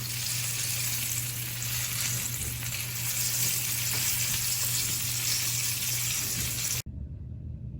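Ghost pepper chicken tenders frying in oil, with a steady, dense sizzle and crackle that stays loud and close for nearly seven seconds before cutting off abruptly.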